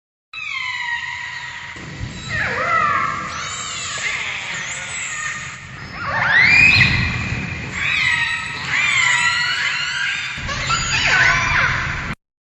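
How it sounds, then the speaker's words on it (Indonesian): Killer whale calls rise and fall as whistles and squeals, overlapping in a continuous, loud chorus that stops suddenly. "Paus pembunuh"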